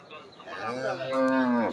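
A cow at a busy cattle market gives a single drawn-out moo that rises and swells over about a second, close and fairly loud, with faint crowd murmur behind it.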